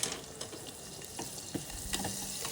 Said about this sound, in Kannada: ಆಮೇಲೆ ಈರುಳ್ಳಿ ಹಾಕ್ಕೊಂಡು ಈರುಳ್ಳಿನ ಇವಾಗ ಟ್ರಾನ್ಸ್ಪರೆಂಟ್ ಆಗೋ ಹಾಗೆ ಚೆನ್ನಾಗಿ ಹುರ್ಕೊಳ್ಳೋಣ